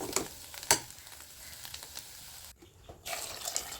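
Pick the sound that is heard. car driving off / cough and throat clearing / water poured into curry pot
water poured into curry pot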